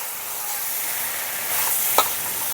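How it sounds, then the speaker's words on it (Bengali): Potato and pointed gourd sauté with spices in a pan, giving a brief, close, steady sizzle with a single sharp scrape or clink near the end and no speech. "মশলার সঙ্গে আলু আর পটলটাকে কিছুক্ষণ কষানোর পরে"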